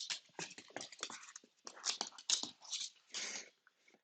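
Schnauzer dogs scuffle and play-fight indoors, with close bursts of whiny, growly vocal noises and rustling movement that come in uneven clusters with short gaps.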